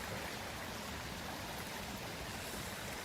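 Fast river water in Jesmond Dene, a constant broad rush that sounds fairly faint and distant, with no talking.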